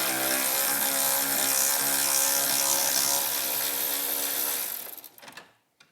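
A power driver whirs steadily as it backs out Torx 25 screws from a Harley motorcycle spoiler fairing, running continuously up close for several seconds before winding down and stopping.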